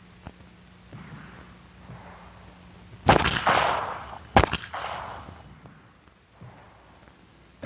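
Pistol shots fired from a crouching point-shoulder stance, two sharp loud reports a little over a second apart, each followed by a brief echoing tail against quiet background hiss.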